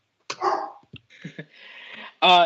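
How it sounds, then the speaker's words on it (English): A dog barks a few times at middle distance, short yips and barks spread across a couple of seconds, with no one talking over it. "my dog's barking"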